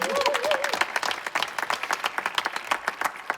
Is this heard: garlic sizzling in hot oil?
no